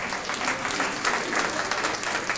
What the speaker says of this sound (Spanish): Okay, give her a round of applause,